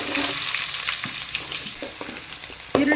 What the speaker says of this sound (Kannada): ಒಂದು ಸ್ವಲ್ಪ ಲೈಟಾಗಿ ಫ್ರೈ ಆಗಬೇಕು.